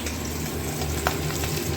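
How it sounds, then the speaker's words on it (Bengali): Pieces of hilsa fish fry in a pan, with a steady, dense sizzle holding at an even level throughout and a brief sharper crackle near the middle. "এই গাদার পিসটা ভাজছি"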